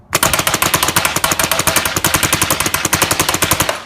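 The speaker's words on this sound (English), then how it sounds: "this is the gun just set on semi-automatic. If I shoot something pretty close" A Dye M2 paintball marker fires on semi-automatic in a rapid, even string of dozens of sharp pops with no gaps. The shots are loud and close, and nobody speaks.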